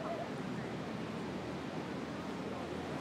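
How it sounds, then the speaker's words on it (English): Ocean waves at Byron Bay form a steady, moderately soft wash of surf throughout, heard from an outdoor beachside yoga session with a light breeze. "So listen to the ocean."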